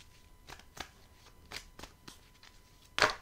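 Tarot cards being shuffled and drawn by hand during a love reading, a series of soft, quick riffling flicks ending in one louder, sharper card snap near the close, no talking.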